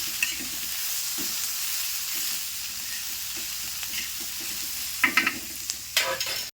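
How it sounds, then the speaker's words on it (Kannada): Onions frying in a pan during festive home cooking, a steady dense sizzle with repeated stirring scrapes, louder bursts of stirring near the end, no talk. "ಈಗ ನೋಡ್ರಿ ಉಳ್ಳಾಗಡ್ಡಿ ಫ್ರೈಗೆ ಅವ್ರಿ"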